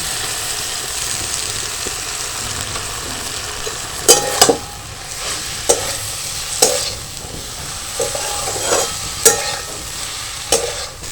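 Grated raw potatoes hit spiced oil in a pan with a constant, close sizzle, punctuated by regular sharp knocks and scrapes of a spoon stirring against the pan.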